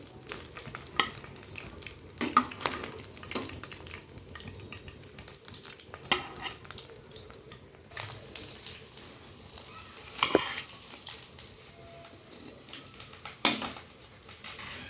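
Lollipop roll pitha made from leftover rice sizzle steadily in hot oil, with repeated sharp clinks and scrapes of a utensil against the pan punctuating the frying at irregular intervals, close and without talk.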